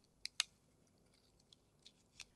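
Hemline stainless steel dressmaking shears cut fabric with a few quiet, crisp snips and clicks, two close together at the start and then sparser ones, faint against a silent room.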